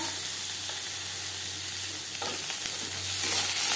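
Onions frying with chana dal and urad dal in refined oil in a pan, giving a steady hiss of sizzling oil that swells slightly near the end, with a couple of faint stirring scrapes and no voices.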